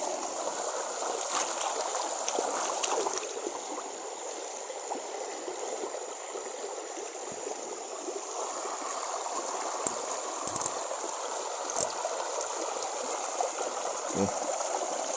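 A river in the Borneo rainforest flows steadily with a broad, continuous rushing wash, close and fairly loud, and a few faint knocks come and go under it.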